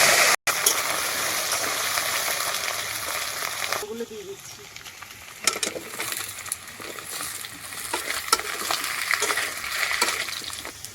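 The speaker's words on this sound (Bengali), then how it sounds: "তেল দিয়ে আমি কচুর ছড়াগুলোকে প্রথমে ভেজে নেব" Taro stolons fry in hot oil in a pan, giving a steady broadband sizzle broken by a sharp clatter near the start and occasional stirring scrapes.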